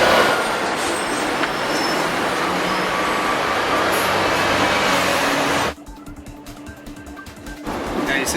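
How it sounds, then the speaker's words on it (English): A Hong Kong tram rolls along its tracks with a steady loud rumble and rattling, then drops abruptly quieter near the end as the running noise thins out before picking up again. "while I'm cruising on the tram tracks"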